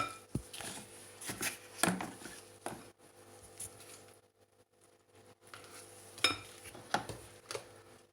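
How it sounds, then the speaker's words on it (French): A utensil scrapes and clinks against a bowl while eggplant fritter batter is mixed, giving soft intermittent knocks and taps at close range with pauses between strokes, and no one speaks. "Alors, on est en train de mélanger."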